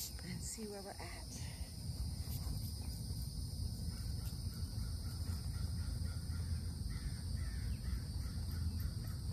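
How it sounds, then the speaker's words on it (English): Crows caw a few times in the distance over a steady outdoor hum of insects, the calls faint and scattered. "I hear the crows right now."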